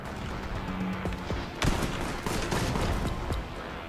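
Gunfire in the shooter Warhammer 40,000: Boltgun, with dense overlapping bursts and sharp loud shots in a rapid fusillade.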